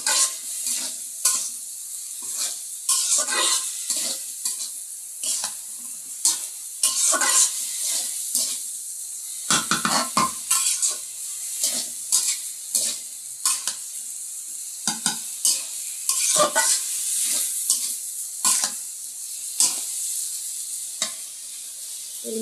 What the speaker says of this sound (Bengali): এই যে আলু দিয়ে আমি ভাজি করছি